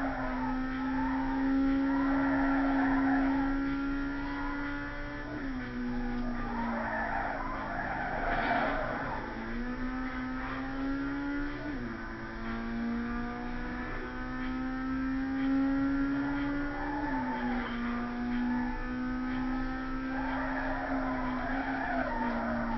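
A video game racing car engine in Need for Speed Carbon drones steadily, its pitch dipping and climbing with gear shifts, while tires squeal and skid repeatedly throughout.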